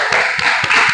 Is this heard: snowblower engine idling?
no